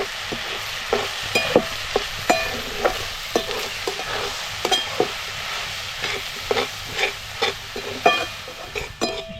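Soybeans sautéed in a pan at home, a steady sizzle and frying hiss broken by repeated sharp scrapes and clacks of stirring, close and fairly loud.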